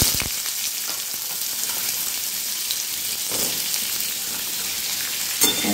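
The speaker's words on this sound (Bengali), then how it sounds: "এবারে পেঁপেগুলো আমি তেলের মধ্যে দিয়ে দেবো।" Papaya pieces fry in hot oil, giving a steady, dense sizzle with close crackling and a brief louder spatter near the end.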